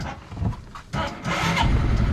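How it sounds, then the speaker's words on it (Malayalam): A homemade Lamborghini replica's rear-mounted engine is cranked by a motorbike self-starter, a short whirring crank followed by the engine catching and running steadily nearby. "എഞ്ചിൻ ഓൺ ആക്കാൻ പോവാണേ"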